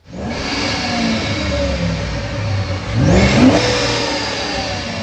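A supercharged 2006 Mustang GT 3-valve V8 with an automatic transmission, running on a dyno on 93 octane. It revs hard and close, a sustained engine roar that climbs in pitch, with supercharger whine rising near the end of the pull.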